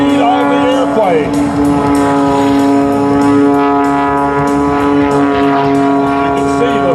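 A Cap 580 aerobatic airplane at an airshow drones with a steady, loud propeller-engine tone as it pulls up and rolls at minimal airspeed, while an announcer talks over it.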